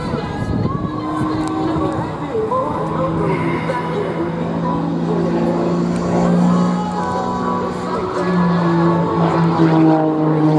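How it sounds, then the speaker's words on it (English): A German-built Extra 300 LX aerobatic airplane with a 300-horsepower engine performs at the Marine Corps Air Station Beaufort airshow, its propeller drone rising and falling in pitch, steady throughout, while a voice talks over it. "flies the Extra, the German-built Extra"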